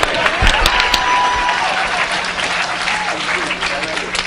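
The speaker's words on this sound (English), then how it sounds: "You might as well clap your hands. Get over it. Come on," Audience applause during a sermon-style talk, a dense steady wash of many hands clapping throughout, loud and sustained with crowd noise and some voices mixed in.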